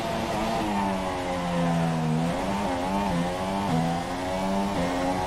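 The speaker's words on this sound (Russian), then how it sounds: "Сегодня едем на Редбуле Ферстаппена" Engine of a Red Bull Formula 1 car in a racing video game, driven on the Singapore street circuit: a continuous high-pitched whine rising and dipping steadily through gear changes, loud and alone without any talk.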